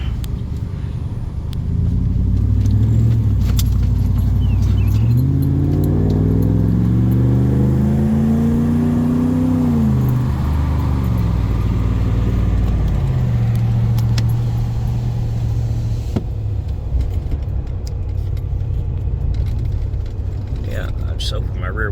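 An old truck fitted with JBA shorty headers revs hard from inside the cab, the engine climbing in a rising roar, holding, then falling back to a deep idle rumble, with keys jingling nearby.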